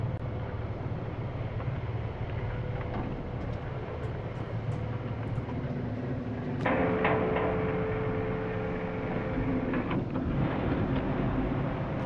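Storm in the game Fort Solis, a continuous heavy low rumble of thunder and wind that swells midway with a brief rising tone, steady and dense throughout, no talking.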